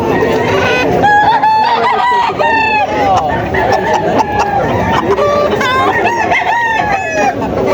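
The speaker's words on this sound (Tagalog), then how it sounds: "Ang laking manok, ang laki." Large chickens for sale cluck continuously while roosters crow several times, loud and close, amid a busy, noisy background.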